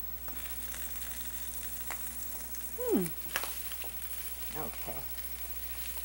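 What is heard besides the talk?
meatballs sizzling while frying in oil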